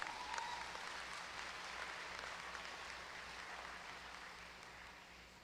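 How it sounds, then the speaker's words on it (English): A convocation audience at the University of Guyana applauds a sports award winner, with steady, even clapping from a large crowd that slowly tapers off and sounds faint and slightly distant. "Let's give him a big round of applause"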